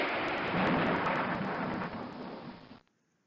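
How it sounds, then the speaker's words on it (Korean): A thunderstorm with a deep rumble of thunder over steady heavy rain, loud and continuous, fading out abruptly near the end. "하늘에서 우르르 쾅쾅 폭풍우가 쏟아졌어요."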